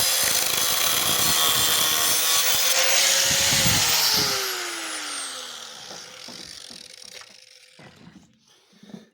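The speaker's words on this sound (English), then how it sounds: "So we take our cutoff wheel and we're going to trim him down to where get rid of the rust" A cutoff wheel grinds loudly through a rusted part on a 210 project, a harsh, steady whine that winds down in pitch as the tool spins to a stop, leaving faint clicks and handling noise.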